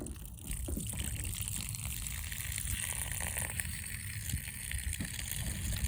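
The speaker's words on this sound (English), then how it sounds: "Let me rinse this off so you can get a better idea of what we have in here." Water pours and splashes steadily over a strained garden slug trap as it is rinsed, a continuous close, low-level wash with no talking.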